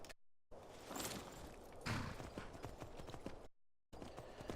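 Horse hooves in Skyrim near Bruma, clip-clopping in a steady, fairly quick rhythm at close range, cut by two brief gaps of silence, with no talk over them.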